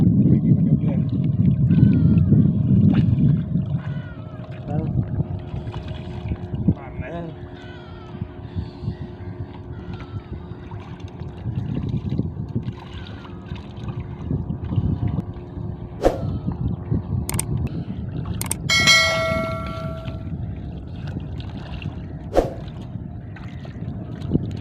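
An engine-powered boat passes at some distance on open water near shrimp fishing nets, a steady low motor drone rising and fading under outdoor wind and talk.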